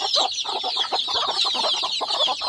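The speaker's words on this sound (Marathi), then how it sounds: "ही या कोंबडीच्या जवळची पिल्ले" A hen with her small chicks in a shed on a farm after rain, clucking continuously at close range, with dense high chick peeping over the hen's steady low clucks throughout.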